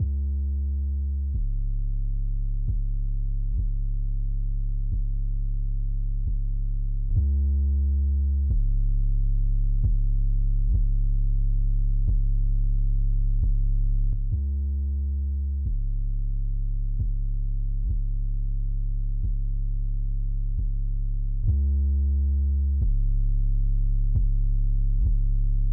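808 bass played on a Maschine setup with the compressor bypassed and re-engaged, a deep sustained tonal bass pattern of repeating notes, loud and steady with no talk.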